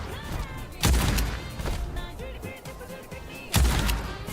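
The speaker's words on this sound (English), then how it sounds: "Whoa, big shotgun." Shotgun blasts in the video game Highguard: two heavy booming shots, one near the start and one near the end, with ringing tails and busy game sounds in between.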